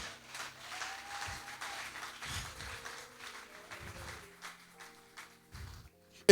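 Church congregation applauding, a soft, steady patter of many hands clapping with some rhythmic thumps underneath, moderately distant and not very loud.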